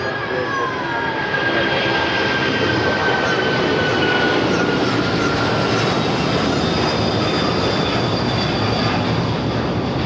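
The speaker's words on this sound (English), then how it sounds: "Cargo Lux now about to rotate off of 25" Cargolux cargo jet taking off from runway 25 left at LAX, a loud continuous engine roar with rising whine that stays steady and strong throughout, no talk.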